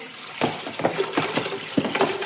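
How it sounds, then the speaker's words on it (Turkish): Water pours into a teapot, giving a steady close splashing gush with soft rhythmic gurgles throughout, moderately loud and without talk. "Şimdi çayımızın hem burasına koyuyoruz suyu."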